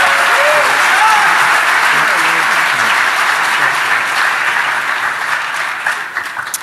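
A hall full of Defcon attendees applauds loudly and steadily for a first-time speaker, the clapping dense and close before tapering off near the end, with a little speech at the start.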